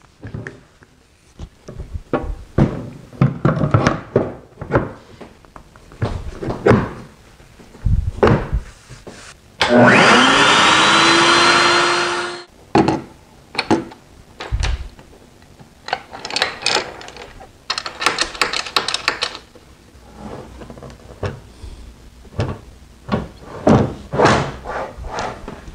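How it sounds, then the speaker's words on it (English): Workshop sounds while a router table cabinet shelf is fastened down with a couple of screws: a loud sustained whir from a power drill driving screws amid scattered knocks, clatter and handling thumps, close by. "I'm going to screw this shelf down with just a couple screws to hold it in"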